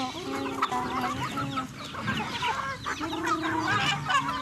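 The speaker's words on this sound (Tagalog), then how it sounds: "Yung mga manok." Several native chickens cluck and chatter close by in rural Ilocos, overlapping calls in a steady busy flock with no talking.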